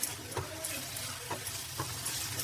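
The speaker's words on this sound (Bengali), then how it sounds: "এবার একটু গ্যাসটা বাড়িয়ে দেবো পেঁয়াজটা ফ্রাই করবো" Onions fry in a pan of oil on a gas stove with the heat turned up, giving a steady, faint sizzle broken by occasional soft stirring clicks.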